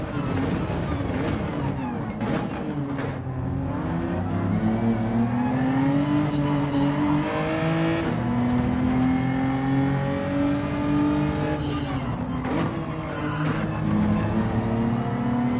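Race car engine in a racing video game, revving and accelerating steadily throughout, pitch climbing and dropping through gear changes, loud and continuous with brief clicks of shifting.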